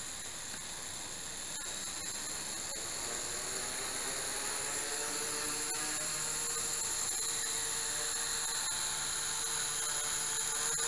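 Blade 200 SRX RC helicopter fitted with a three-blade rotor in flight, a steady high-pitched motor whine with a rotor hum that swells slightly, close and continuous throughout with no voices.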